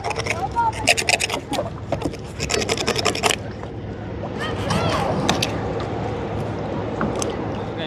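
A knife scrapes scales off a fish in quick, rhythmic rasping strokes for the first few seconds, then fades into a steady outdoor background with some voices.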